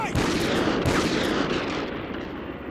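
Rapid, loud bursts of gunfire and a booming shot during a breach in Call of Duty: Ghosts, dense and close, tapering slightly at the end.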